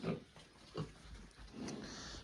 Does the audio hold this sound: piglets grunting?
yes